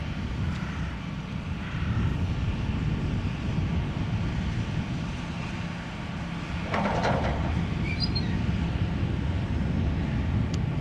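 A Boeing Dreamliner airliner takes off from runway 18 left at Amsterdam Schiphol Airport, a distant, steady jet rumble blended with wind noise across the whole stretch.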